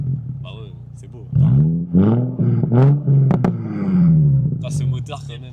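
A Nissan 350Z engine revs several times in quick rising and falling surges, close by and loud, with people talking over and between the revs.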